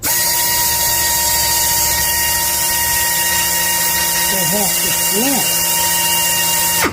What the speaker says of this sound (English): It wasn't hanging on the drill very good either. Here, let's try that.